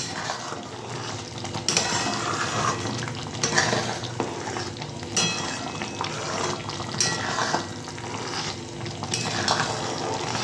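A spiced sour-sweet-hot jujube pickle is stirred in a pan, giving repeated scraping and soft squelching strokes that swell every couple of seconds over a steady low kitchen background.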